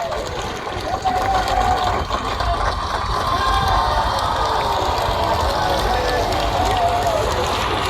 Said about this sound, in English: Ladies and gents, give him a round of applause.